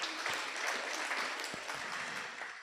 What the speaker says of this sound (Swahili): tuwapige makofi